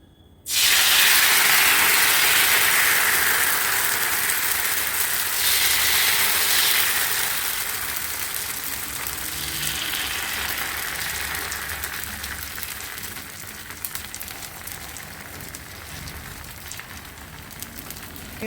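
Rice flour batter for Konkani ghavan hits a hot pan with a sudden loud hiss that settles into a steady, slowly fading sizzle, close and with no talking.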